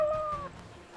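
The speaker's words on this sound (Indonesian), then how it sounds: "Nadif, itu cuman kucing" A cat gives one short, clear meow, close and fairly loud, fading quickly into room noise.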